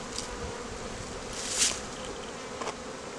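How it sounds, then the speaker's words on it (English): Honeybees buzzing steadily inside an opened hive box in early spring, a faint continuous hum with a couple of brief louder passes as individual bees fly close. "Good population of bees down there too."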